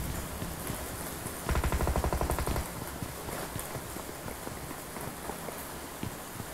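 Rain falls steadily on a surface, with a brief patch of denser, rattling drops partway through and a constant background hiss throughout, no voices.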